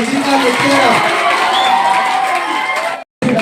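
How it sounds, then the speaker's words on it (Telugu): Crowd at a district-level athletics selection and medal ceremony bursts into sustained applause mixed with cheering and shouts, loud and dense throughout, then cuts off abruptly near the end. "గట్టిగా చప్పట్లు కొట్టండి"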